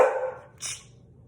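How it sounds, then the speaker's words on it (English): A single dog bark sounds nearby, following a brief whine, against a quiet room background. "Oh, excuse my dogs."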